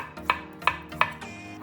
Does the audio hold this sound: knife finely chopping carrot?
yes